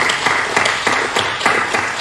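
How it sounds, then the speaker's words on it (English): Brief, loud audience applause at an evening discussion event, dense clapping with a rhythmic pulse throughout. "Let's just give them a round of applause."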